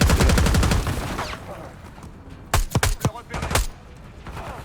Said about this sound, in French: Qui me tire? Qui tire?